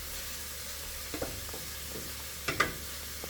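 Chicken adobo cooks in a pan while it is stirred, a soft low sizzle with a few light spoon scrapes and one sharper clatter, fairly quiet and with no talk.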